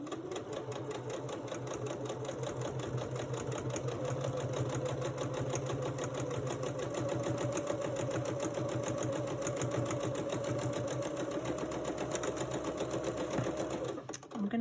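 A sewing machine stitches a quilt block in a steady, fast, continuous hum that runs close and unbroken for nearly the whole stretch, stopping briefly near the end.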